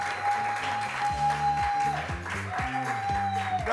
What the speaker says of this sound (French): on a ce soir un magnifique public qu'on applaudit